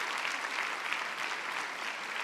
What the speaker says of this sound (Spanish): Un aplauso para usted, querida hermana.